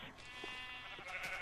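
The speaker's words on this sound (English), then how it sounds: "I'm trying to figure out why there's a red sheep out here" A sheep bleats in Minecraft, a short wavering harmonic cry standing alone at low volume for about a second and a half.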